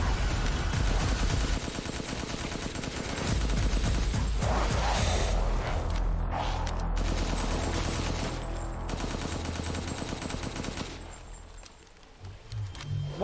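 Enemies in Resident Evil Village fire guns in rapid, sustained bursts of automatic gunfire, dense and loud for most of the stretch before thinning out near the end.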